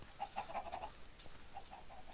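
Chickens in the Minecraft video game cluck softly in a quick run of short, evenly spaced clucks, then a few more after a brief pause, faint against a low background hiss.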